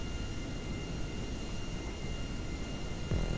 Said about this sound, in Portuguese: Olha os jatos